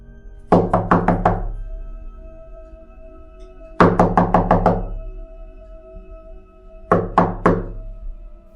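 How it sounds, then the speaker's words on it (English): Sharp knocks on a door come in three bursts of four to five quick raps each, loud and close, with quiet gaps between the groups. "Suddenly, the door was knocked."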